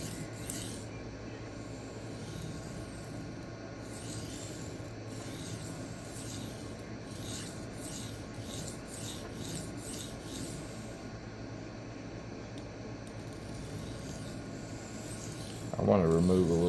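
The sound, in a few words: Ozark Trail D2 knife sharpened freehand on Xarilk 1x6 inch stones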